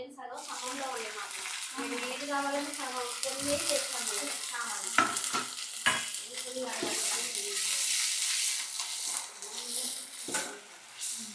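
Chopped green chillies hitting hot oil with cumin seeds for a mint chutney, a close, bright sizzle with spatula stirring and scraping while a person talks over the cooking.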